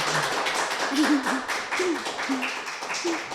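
A gathering at a family seafood restaurant claps for two people being honoured, steady scattered hand claps with people talking and calling out over them.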